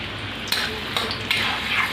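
Garlic and ginger fry for soybean chilli in a pan, a loud bright sizzle with three quick stirring scrapes at even intervals, close up and without talk.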